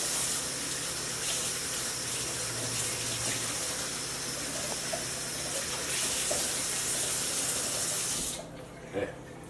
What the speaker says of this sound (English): I'm going to take a little bit of water